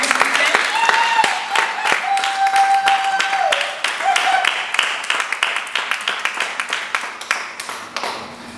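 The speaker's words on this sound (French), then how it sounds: "On peut applaudir." A conference audience applauds a guest of honour, brisk uneven clapping that builds and then thins into separate claps, while a voice and some tonal sounds carry over the first half.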